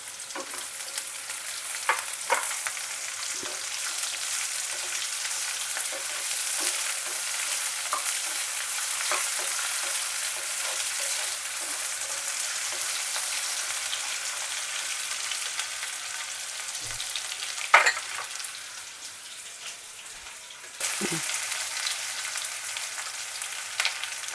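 Browned onions and freshly added potatoes fry in a pan, giving a soft, continuous sizzle with occasional stirring clicks and scrapes, heard alone and fairly quiet.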